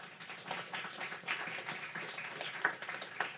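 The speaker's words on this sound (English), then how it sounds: "Let's give them a round of applause." An audience applauds after the introduction of a University of Pennsylvania computer and information science professor at a talk. Dense, steady clapping from many people carries on throughout and stays moderately loud, with a few sharper claps standing out.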